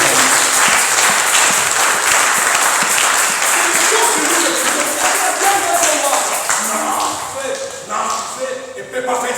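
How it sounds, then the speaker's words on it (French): A church congregation breaks into loud, sustained applause and acclamation for the name of God, with dense clapping close by that fills the room and slowly thins toward the end while voices carry through it. "Est-ce qu'on peut acclamer le nom de Dieu?"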